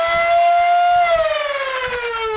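A foam dart blaster set to its most powerful level gives a loud, high whine from spinning motors that holds steady, then dips in pitch as a few rapid low thumps fire off.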